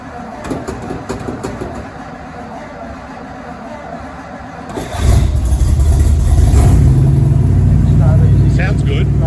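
1969 Ford Galaxie XL GT convertible with a 429 V8 cranking and firing up at about five seconds, then settling into a loud, steady idle close by, after a quieter opening of cranking and background noise.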